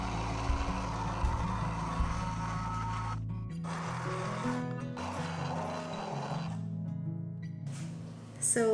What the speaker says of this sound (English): we're going to blend everything together using our stick blender